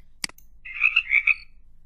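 Cartoon frog croak sound effect from a Hungry Frog classroom quiz game, a short click followed by a bright warbling croak of several pulses, clear and alone.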